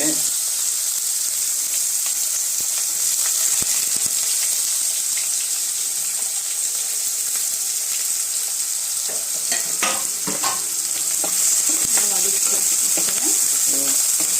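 Onion sautés with mustard seeds in hot oil: a steady, hissing sizzle with scattered small crackles, and busier stirring and clattering toward the end.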